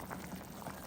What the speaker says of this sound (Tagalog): ngayon at kumukulo na at medyo luto na yung ating gabi